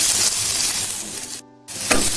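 Onion, ginger and garlic fry in a pan with a bright sizzling hiss that cuts out briefly near the middle and then returns, close up with no talk.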